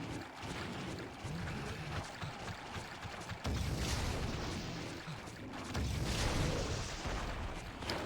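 Bowgun pellet shots firing in Monster Hunter Freedom Unite, a series of booming blasts over a dense roaring game soundscape, fairly faint overall with heavier bursts midway and near the end, no talk.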